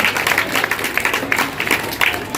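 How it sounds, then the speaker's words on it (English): Audience applause at a sea lion training show in Vancouver, a steady crowd clapping that stays fairly loud and close throughout, with a few sharper claps standing out. "So how about a huge round of applause for them again?"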